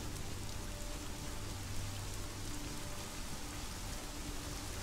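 Steady cold rain falls in the Conan Exiles game world, a dense, even hiss of drops on the ground continuing throughout with no voices.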